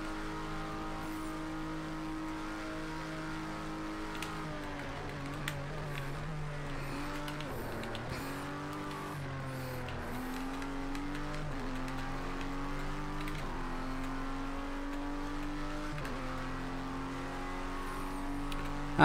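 A race car engine, reportedly a Honda unit, from the Project Cars 2 racing game drones and revs through repeated gear shifts, each upshift dropping the pitch before it climbs again, steady and moderately quiet with no talking.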